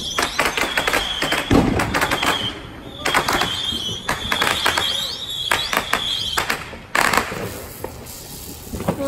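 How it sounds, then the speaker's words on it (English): Fourth of July fireworks go off nearby in clustered bursts of sharp crackling and thuds, with a whistling tone in some volleys and brief quiet gaps between, under faint background voices. "I'm just trying to record the fireworks right now."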